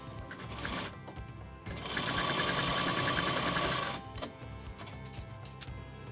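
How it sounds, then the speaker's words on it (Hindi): A sewing machine stitches a reversible jacket with a notched collar, a steady rapid mechanical whir running about two seconds between quieter handling sounds and short clicks. "उसके बाद हम यहाँ से यहाँ तक भी सिंपल स्टिचिंग करेंगे"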